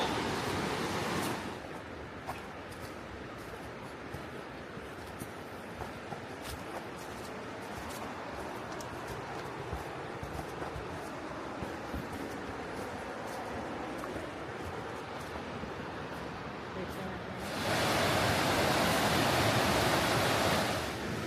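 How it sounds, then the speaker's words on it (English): Narrow whitewater stream rushing over rocks on a forest trail hike, a steady broadband roar that holds throughout and swells louder near the end, with faint footsteps and rustles mixed in. "the whitewater has really started picking up in the stream"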